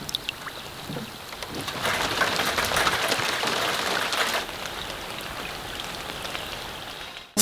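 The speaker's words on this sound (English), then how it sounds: "It's like the perfect raindrop sounds." Steady patter of rain falling at a floating house boat built from scratch, a dense wash of raindrops drumming on surfaces that swells louder for a few seconds in the middle before easing back, with no voices.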